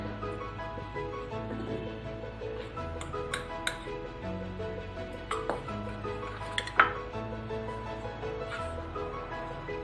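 Fish being mixed with green chilli, fennel powder, salt and turmeric in a bowl gives soft clinks and taps of a spoon on the bowl, some sharper pings near the end, over a quiet room with a steady hum.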